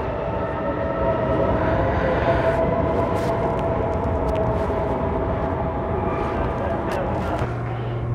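A Munich S7 train arriving at the station, a loud steady rumble of rail noise filling the platform, with a voice talking over it.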